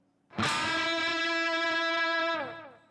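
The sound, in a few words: electric guitar playing a unison bend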